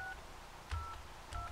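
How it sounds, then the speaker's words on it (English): A telephone number dialed on a Polish field phone line with a switchboard, heard as three short touch-tone beeps spaced roughly evenly, quiet and close with no voices. "we'll dial the number"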